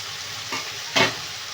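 Tomatoes frying in a pan give a low, steady sizzle broken by two short stirring scrapes, the second louder and sharper, heard close with no one talking.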